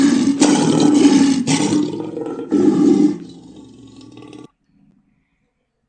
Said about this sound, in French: Le son du lion est...